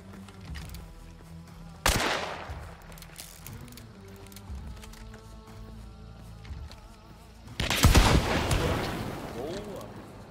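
Hunt: Showdown gunfire and explosive blasts ring out, two louder bursts standing out amid background game sounds, with voices talking faintly under them.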